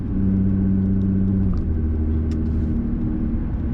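Nissan GTR driving on a road, heard from inside as a steady loud low engine and road rumble with a brief pitch shift partway through, no talk.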